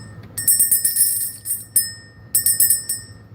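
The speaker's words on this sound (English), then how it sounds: "We're going to ring the bell." A small hand-held bell rung to clear energy, bright metallic chimes struck repeatedly in quick shaking bursts, close and clear, pausing briefly between rounds.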